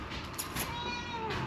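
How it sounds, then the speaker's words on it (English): A cat named in a chilly, wet outdoor setting gives a soft meow, fairly faint against steady background noise. "Meow!"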